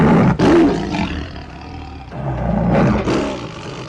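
A tiger in the James Bond film Octopussy lets out loud, close roars in two long, rough bursts with a short break between them.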